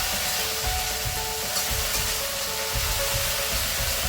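Chopped onion sizzles in hot oil with ginger, cumin and chilli paste, a steady, bright frying hiss punctuated by the soft scrape of stirring, close and uninterrupted by talk.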